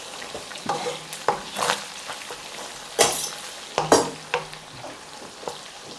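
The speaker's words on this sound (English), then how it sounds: "into the butter can go our chili and garlic just to sweat off for a couple of minutes" Chili and garlic sweating in melted butter in a pan for macaroni cheese, giving a steady soft sizzle with stirring scrapes and a few clinks of utensil on pan, close and with no one talking.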